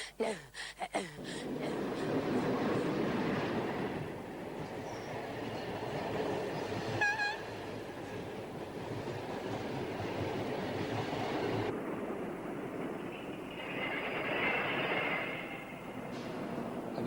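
A train running on rails, a steady loud rumble and rolling clatter of wagons with a short high horn-like squeal midway, continuing throughout with no clear speech.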